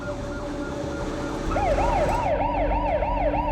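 An emergency vehicle siren, ambulance or police, wails in a rising and falling cycle, growing louder and nearer over low road rumble, with no talk.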